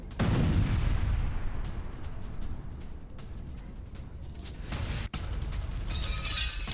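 Bombing explosions at night in Beirut, a heavy low blast that opens loud and rumbles away into a long roar, with a sharp crack near the end and a further burst of debris noise, no voices.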